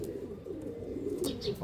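Caged pigeons, some brought from Punjab, give soft low coos over a murmur of background noise, with a few brighter chirps near the end; the calls are faint and close.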